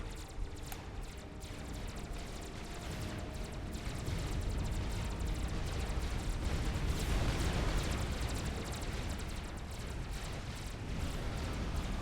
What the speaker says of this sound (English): Drops another bomb on the production facility of Excelsior.